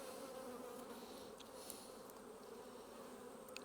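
Honey bees buzz steadily around an open hive frame with brood, calm and gentle, a continuous dense hum close by with no voices.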